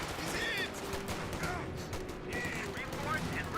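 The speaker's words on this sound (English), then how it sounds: "Sherman 76 firing away. Good pen there on the Sherman tank." Gunfire and tank cannon shots from the World War II strategy game Company of Heroes 2, with a Sherman 76 tank firing; dense overlapping bursts of gunfire run steadily throughout the mix, with no talk.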